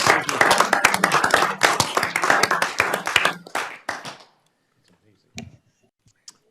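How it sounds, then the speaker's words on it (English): A city council meeting audience gives a round of applause, dense clapping from many people for about four seconds before tapering off into near silence, with a couple of faint isolated sounds afterward. "I think one more round of applause for James"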